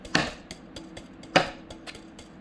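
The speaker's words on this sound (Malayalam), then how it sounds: "ഇതിൻ്റെ സ്ട്രിങ് സൗണ്ട് ഇതാണ് കേട്ടോ." Strings of a pink and white badminton racket are tapped, giving a few quiet, sharp ticks spread over about two seconds, two of them noticeably stronger than the rest, with no voices.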